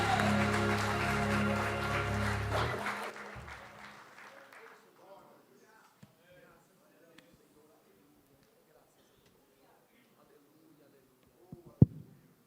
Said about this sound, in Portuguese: Aplauda mais forte e glorifique.